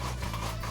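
A short burst of gritty, scraping rasp comes from a pepper grinder being twisted over a boiled egg salad in a home kitchen, close-up and lasting under a second.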